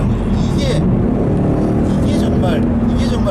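A Ford Mustang GT's V8 engine pulls under acceleration on the road, a steady low growl and rumble heard from inside the car, continuous and fairly loud with no speech over it.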